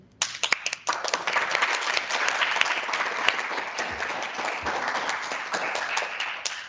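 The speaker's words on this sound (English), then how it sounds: "please, audience, do give them a round of applause to show your appreciation" An audience at a happiness forum breaks into sustained applause, starting with a few scattered claps and swelling into a dense, steady round of clapping that carries on throughout.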